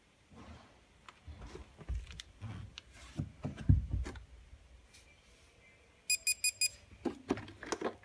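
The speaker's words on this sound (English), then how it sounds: "4 beeps." An iLife robot vacuum cleaner stopping with an error sounds four quick high electronic beeps in a tight row, preceded by faint knocks and whirring of the machine, fairly close in a quiet room.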